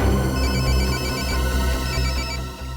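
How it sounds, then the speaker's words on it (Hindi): A mobile phone ringtone plays loudly and continuously, its repeating electronic melody close by with no voices. "घंटी तो बज रही है और आवाज भी आसपास से ही आ रही है"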